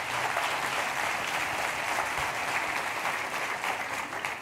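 Congregation applauding in a church during a worship retreat, a steady, dense wash of clapping from a full room that holds at an even level for several seconds without talk.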